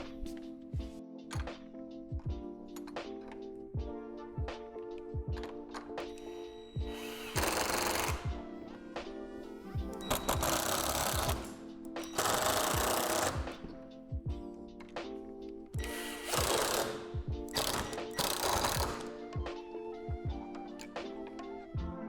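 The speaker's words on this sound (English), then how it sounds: "While you're drilling, it may be helpful to look on the back side to make sure that your screw is going through the hole in the support." A power drill driving screws through the panels and support tubes of a plastic horizontal storage shed during assembly, with repeated short bursts of whirring and louder grinding runs, plus knocks and handling clatter between them.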